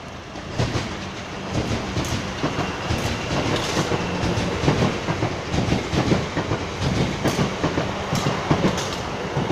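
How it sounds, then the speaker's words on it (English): Class 444 train passing a Southampton level crossing, a rhythmic clickety-clack of wheels over rail joints under a continuous rushing roar, close and moderately loud, no talk. "And there we had 444005 with the 11:30 departure to London Waterloo."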